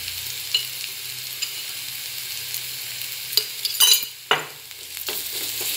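Spice masala with onions and salt fries on low heat for baigan bharta, a steady sizzle broken by several sharp scraping stirs of a spatula in the pan, close and distinct.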